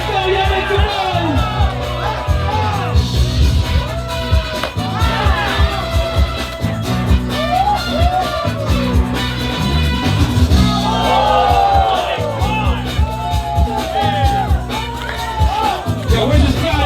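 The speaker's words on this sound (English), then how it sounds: "Let's go, y'all, make some noise." A crowd at a hip-hop rap battle semifinal shouts and whoops in loud, overlapping bursts while a host talks over the noise, the mix dense and near throughout.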